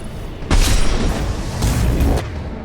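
A concussive shot blast from the video game Mass Effect 2 lands as a loud, deep boom with a rumbling tail, followed by a second heavy burst a moment later, close and forceful.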